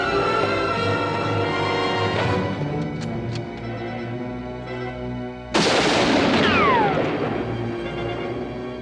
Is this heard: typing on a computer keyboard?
no